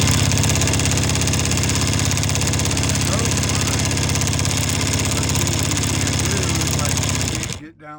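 A Falak chainstitch embroidery machine, threaded with black thread and a number 4 needle for outlining t-shirts, stitches with a fast, steady mechanical chatter and hum that runs evenly for about seven seconds, then stops abruptly.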